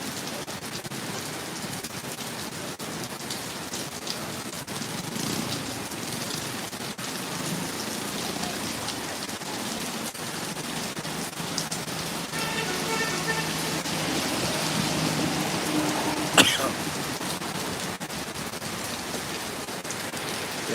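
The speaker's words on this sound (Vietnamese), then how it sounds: "nhà lọc mưa to rồi nhé mọi người nhé" Heavy rain, the first of 2023, pours steadily in a dense, continuous hiss with drops striking surfaces close by and one brief sharp knock partway through.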